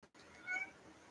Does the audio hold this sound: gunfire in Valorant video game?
no